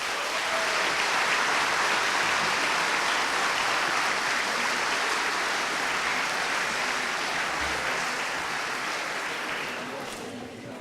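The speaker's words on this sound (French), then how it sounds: "Je crois qu'on peut les applaudir très fort." Audience applause for teachers at a school results ceremony, a steady dense wash of many hands clapping for about ten seconds, loud and sustained before tapering slightly at the end.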